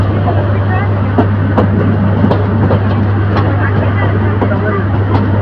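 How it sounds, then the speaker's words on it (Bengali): The Kishorganj Express train rolls into platform 3 at Bhairab Bazar Junction with a steady low engine drone, faint rhythmic clacks and rattles, heard from on board under talk. "ট্রেনটি ভৈরব বাজার জংশনের 3 নম্বর প্ল্যাটফর্মে গিয়ে দাঁড়াচ্ছে।"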